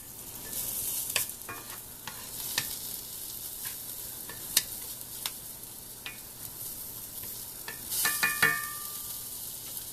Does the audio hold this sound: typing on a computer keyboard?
no